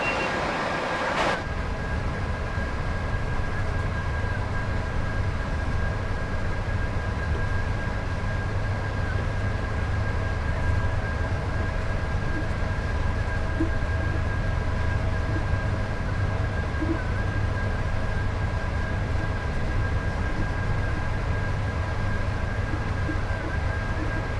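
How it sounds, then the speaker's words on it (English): InterCity Class 86 electric locomotive in a train simulator game, a steady cab drone with a low rumble and a faint sustained whine running without change, after a brief click at the start. "Oh man, the 86 is just such a good locomotive."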